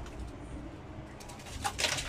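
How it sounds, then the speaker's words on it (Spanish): A young ground dove, the rolita caminante, gives soft coos close by, with a few faint scratchy sounds and background noise. "esa es la rolita caminante"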